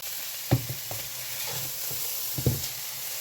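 A spice base frying in oil before vegetables go in, a low steady sizzle broken by a few sharp scrapes and knocks of a spoon stirring the pan.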